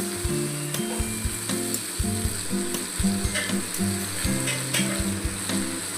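Boiled potatoes land in a hot frying pan with herbs and sizzle steadily and loudly, while a spoon clinks and scrapes against the pan throughout.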